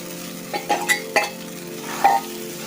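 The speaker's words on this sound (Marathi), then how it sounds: "असं व्यवस्थित सर्व बाजूने हलवून घ्यायचे पोहे" Poha stirred in a pan over a low flame: a faint steady sizzle with a few distinct scraping and clinking strokes of the spoon, spaced irregularly and heard up close.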